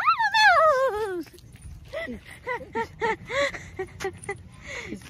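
A dog at a temple lets out a long, wavering whimper up close, followed by a string of shorter whines and yips, mixed with some nearby human sounds.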